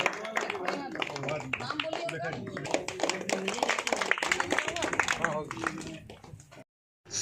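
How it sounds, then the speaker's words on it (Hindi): Crowd clapping to welcome speakers at an outdoor workers' union rally at a colliery, steady scattered hand claps mixed with voices and chatter for several seconds, ending in a brief silence. "तालियों के साथ स्वागत करें।"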